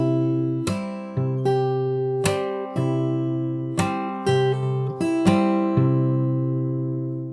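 Slow, clean guitar notes plucked one at a time, each ringing out and overlapping with the next, with no voices.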